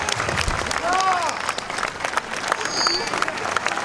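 Outdoor crowd applause for a set of regimental colours at an English Civil War Society reenactment in Bradford-on-Avon, Wiltshire: steady clapping throughout with a few voices and whistles rising over it.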